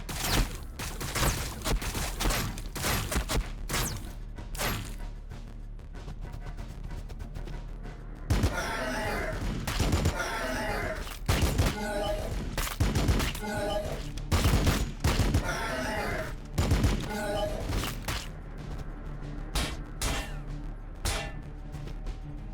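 Bursts of rapid gunfire and explosive cracks from the Warhammer 40,000: Battlesector battle game crackle across the whole stretch, loud and dense, with brief lulls between volleys and a few game voices mixed in.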